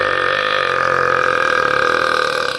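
A long, loud, sustained burp with a steady droning tone, close to the mic and heard alone.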